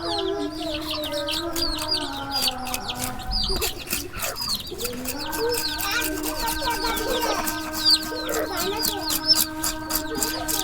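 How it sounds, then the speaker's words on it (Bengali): Chickens cluck repeatedly at close range against a busy, cluttered background, with sustained tonal sounds running beneath the calls. "এই মুরগি এলো"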